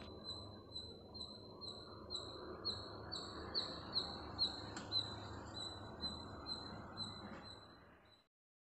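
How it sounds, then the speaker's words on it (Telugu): Birds chirp outside a kitchen in the morning, a quick train of sharp, high repeated calls heard close and clear over a soft background hum for about eight seconds before it cuts off. "నేను కిచెన్లోకి ఎంటర్ అవగానే బర్డ్స్ అంతా పక్షులు అరుస్తుండేది వినిపిస్తుంది"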